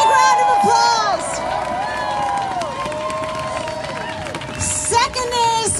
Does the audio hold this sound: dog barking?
no